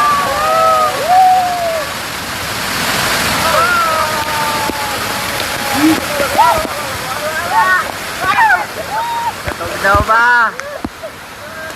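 Tinago Falls waterfall, a steady broad rush of falling water close by, with people talking and calling out over it throughout.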